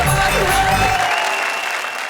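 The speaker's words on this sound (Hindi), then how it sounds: "जोरदार ताली।" An audience at a Hindi comedy poetry event gives loud applause, a dense burst of clapping that carries on at full strength before tapering slightly at the end.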